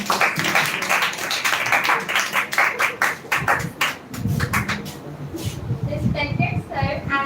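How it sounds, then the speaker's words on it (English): An audience at an English speech competition semi-final claps for a contestant called to the podium; the close, brisk clapping thins out as a voice starts speaking. "Clap for her."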